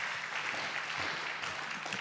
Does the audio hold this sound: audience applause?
yes